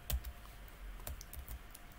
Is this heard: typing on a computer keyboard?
yes